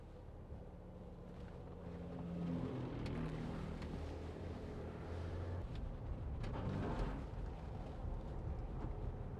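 A four-wheel drive vehicle, a 2015 Land Rover Discovery 4 3.0 SDV6, passes on a road, its low engine rumble swelling from about two seconds and holding steady and fairly loud, mixed with wind buffeting, with no talk.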